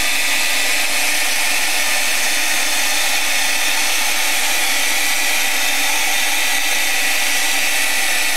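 A heat gun blows steadily to dry paint on the pages of a small art journal, a loud continuous airy roar that holds unchanged from start to finish with no voices.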